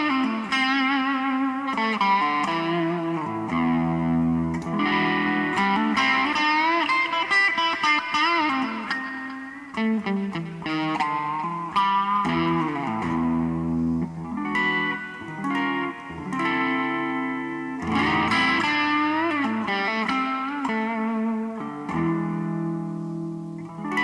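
IYV IP350 electric guitar, in black, played through distortion with a dense, sustained overdriven tone. Chords and lead lines ring continuously and loudly for the whole stretch with no talking, dynamics dipping briefly before swelling again.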